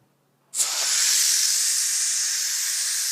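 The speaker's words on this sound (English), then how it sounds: "Now we're going to release the steam." A sudden loud hiss of escaping steam from a Fagor 3-in-1 pressure cooker bursts on after a brief silence and holds steady and strong, close and sustained.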